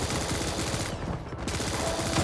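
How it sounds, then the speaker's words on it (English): Rapid nail gun fire in the arena shooter Quake Champions, a steady stream of dense, close shots running almost unbroken, with a brief thinning partway through. "Oh, it's the nail gun."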